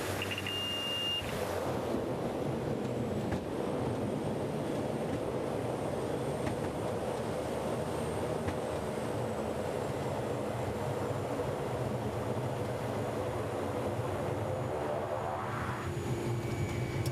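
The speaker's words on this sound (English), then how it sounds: "The experienced pilots of North Coast Aviation bank hard and begin their abrupt descent" A North Coast Aviation plane in Papua New Guinea banks hard and descends steeply for a bumpy landing, a steady engine drone filling the cabin with a brief beep near the start and a faint rising whine toward the end.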